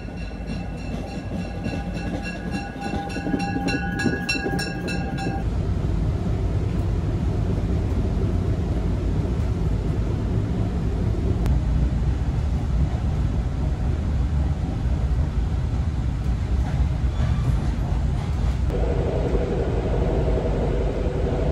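A train passes close by, a steady loud rumble of rail cars with clattering and a high whine at the start, continuous throughout with no voices.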